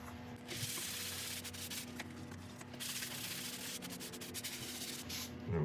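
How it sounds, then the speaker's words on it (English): True Grit abrasive paste being worked onto a highly figured maple bowl on a lathe, a steady close rubbing hiss over the motor's constant hum. "I'm going to go on with the True Grit"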